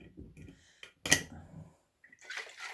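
A lidded jar of ginger switchel, a water, ginger and honey drink, is shaken, giving a brief splashing slosh with a sharp knock partway through. Quiet gaps and faint speech-like sounds surround it.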